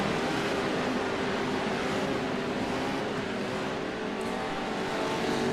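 Pro 2 Lite race trucks roaring around Crandon International Raceway, a dense, steady engine drone from several trucks holding at a constant loud level with no break and no voices.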